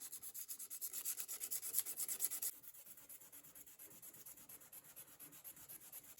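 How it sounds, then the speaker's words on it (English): High grit sandpaper rubs over the metal of a WWII-era Robeson pocket knife in quick, rhythmic back-and-forth strokes, close and faint, growing softer partway through, with no voices. "I used a high grit sandpaper for the branding here because I did not want to remove too much of the metal"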